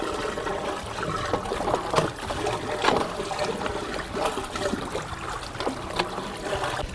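Water pours steadily out of a fish pond's outlet pipe in Lagos, a continuous splashing trickle with bright drips, close and fairly loud, with no talk over it.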